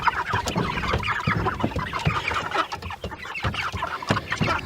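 Chickens packed in crates in the back of a pickup under lights cluck and squawk busily and continuously, close by, with no talking.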